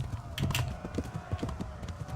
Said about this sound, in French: Oh mais saute! Saute, abruti de cheval!